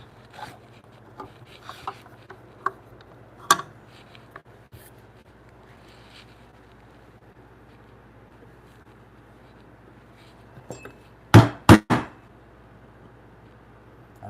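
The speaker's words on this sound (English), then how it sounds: "this chisel has just been sharpened, so the cut is going nice and deep in there" A freshly sharpened chisel tapped into a timber mortise for a bunk bed frame: quiet room with a few scattered light knocks, then two or three sharp, loud mallet strikes close together near the end.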